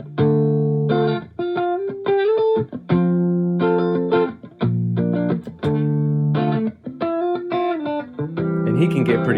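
Electric guitar played through a limiter pedal with the other board effects switched off, a run of plucked notes and chords with long sustained tones, heavily compressed and even in loudness, upfront and clear.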